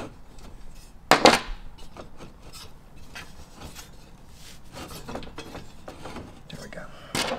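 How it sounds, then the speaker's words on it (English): A 5mm Allen wrench turning bolts on an upTOP TRUSS aluminum bed rack for a Tacoma truck gives light ratcheting and metallic clicks, with one louder rattling burst early and scattered small taps and rubs nearby. "I'm gonna take the 5mm Allen wrench and just get them all going"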